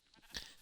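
A single short sheep bleat from Minecraft, faint and brief, with no voices around it.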